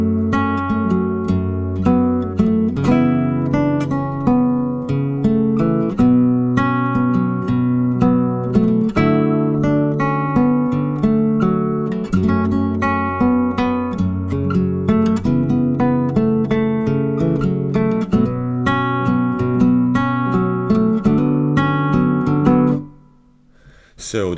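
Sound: fingerstyle acoustic guitar playing a song

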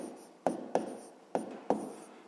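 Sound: writing numbers on paper

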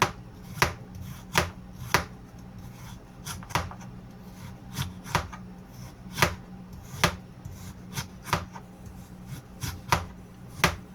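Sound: chopping food

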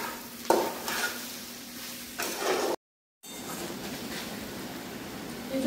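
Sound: jackfruit being sautéed and stirred in pan

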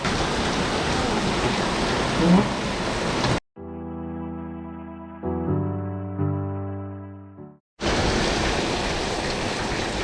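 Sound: heavy rain

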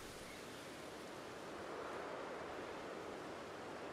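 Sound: waterfall in Pokémon Legends: Arceus, video game

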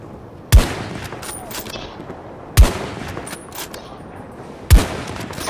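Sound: long-range rifle gunshots in video game Battlefield 2042

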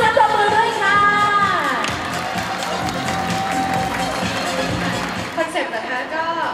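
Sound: audience applauding and cheering at an event

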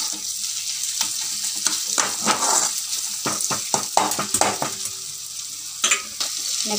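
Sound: stir-frying quail egg pepper fry in pan

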